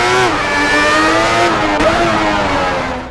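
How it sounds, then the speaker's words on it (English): A Ferrari 412T Formula 1 car's V12 engine in a racing video game screams at high revs, a loud continuous whine that dips briefly and climbs again with gear changes. "this is the last ever F1 car to be powered by a V12 engine. And that means that this thing sounds absolutely amazing."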